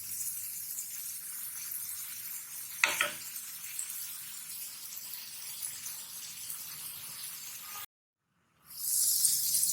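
Dried fish and banana flower frying in spices in a pan, a steady close sizzle with a brief stir around three seconds, cut by a short silence before a louder hissing burst near the end.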